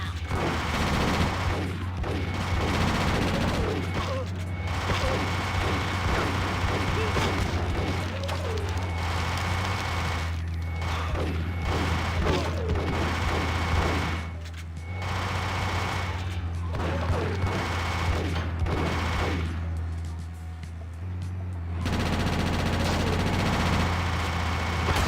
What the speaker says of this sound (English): Boyo's a menace with his minigun this early in the game